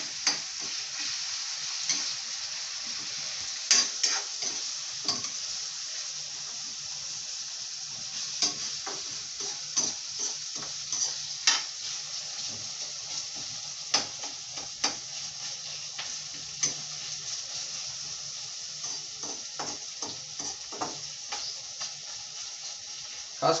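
Ginger garlic paste fries and sizzles in a pan for biryani, with steady crackling hiss and repeated scraping stirs throughout, close and alone.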